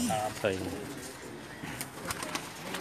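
Sialkoti pigeons on a rooftop in Jeddah, Saudi Arabia, give a few short, soft coos near the start, while close voices talk over them and the rest settles into low background murmur.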